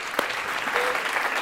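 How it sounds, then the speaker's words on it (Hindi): Short burst of audience clapping on a comedy show set, dense and steady for just over a second with one sharper clap near the start. "तालियां होनी चाहिए इस बात पे।"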